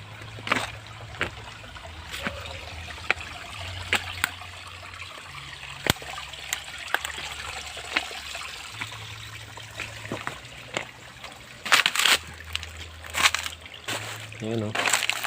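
Clear spring water trickling through a small spring-fed jungle stream, a faint, steady babble with occasional splashes and handling clicks, while a voice talks over it.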